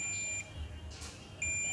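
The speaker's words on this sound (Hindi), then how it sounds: "ये यहाँ पे बीप दे रहा है" A multimeter in continuity mode gives a steady high-pitched beep while its probe touches a capacitor on a phone circuit board. The tone sounds twice, briefly and moderately loud, over a quiet room with no talk.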